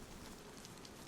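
Light rain falling outdoors, a faint, even patter of drops forming a soft continuous hiss over a brief moment.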